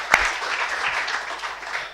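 A short, moderately loud round of applause from the audience for the whole panel at an academic panel discussion, a dense even patter of clapping that lasts about two seconds.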